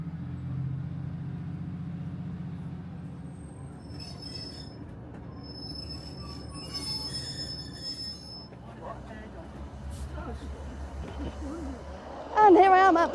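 A train pulls into Blackpool South station on the South Fylde Line, its wheels squealing and grinding as it slows beside the platform, with a rumbling run-in and a sharp loud squeal near the end; a voice talks partway through.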